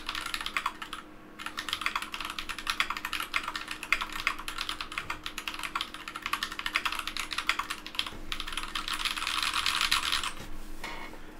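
Typing on a KBD75 mechanical keyboard fitted with Holy Panda switches: a steady, close run of crisp keystrokes with brief pauses, heard alone without talking.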